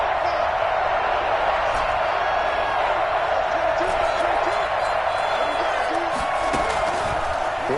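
Stadium crowd in a Madden football video game roaring steadily ahead of a big third-down play, a dense, constant wash of cheering that fills the whole stretch without breaks.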